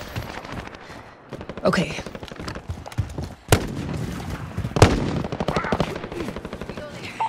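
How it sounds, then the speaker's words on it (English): Video game precision airstrike explosions: two sharp, loud blasts stand out amid steady rapid gunfire and game effects, with a short spoken word and voices over the top. "Precision airstrike."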